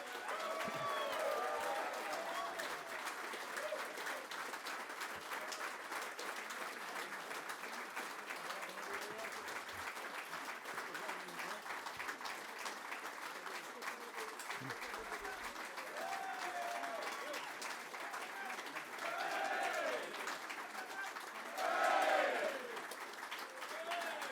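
An audience applauding Falklands War veterans at a book launch, sustained clapping from a large crowd with scattered cheers, steady and moderately loud, with a brief swell near the end.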